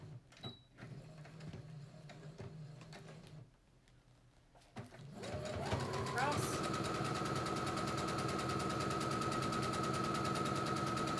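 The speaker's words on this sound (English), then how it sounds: "this one you can backstitch a few stitches to lock it in" Sewing machine stitching and backstitching a short seam on a fabric pocket face mask, starting after a short pause and then running as a loud, steady mechanical whir with rapid stitch ticks, with a voice talking over the early part.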